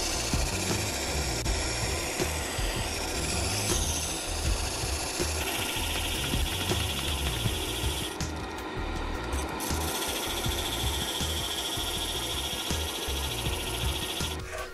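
Disc sander grinding steadily against plywood, a continuous loud rasping whir that holds for the whole stretch with brief shifts in pressure and no talk.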